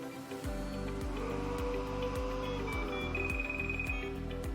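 A ventilator running its power-on system health check, with beeping alarm tones and a steady repeating electronic pattern over continuous machine hum, checking the blower, sensors and alarms.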